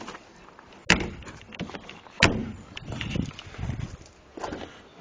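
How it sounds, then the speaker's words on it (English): Door of a Daimler Consort DB18 classic car opened and shut, two sharp loud thumps about a second apart, followed by quieter handling and rustling nearby. "So the doors are all good. Opening and closing here"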